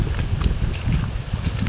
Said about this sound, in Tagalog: lakas naman ng hangin.